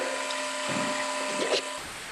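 An HVAC vacuum pump pulls a vacuum during a refrigerant course, giving a steady close whirring hum with a few faint clicks and a shift in tone near the end, no speech.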